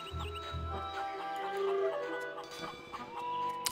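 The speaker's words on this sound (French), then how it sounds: "Oh, les poulets, les têtes" Cartoon chickens cluck and squawk in the Curse of Monkey Island adventure game, several short bursts over a busy bed of game music, fairly loud and close.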